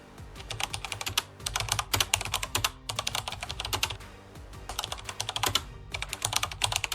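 Rapid, steady typing on a computer keyboard as a search term is entered on a freelance marketplace website; close, crisp clicks in quick bursts with brief pauses, no voices.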